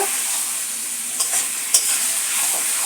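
Spicy chicken meat being stirred and sautéed in a pan for a Bengali curry, giving a steady close sizzle with a couple of brief spatula scrapes and no talking.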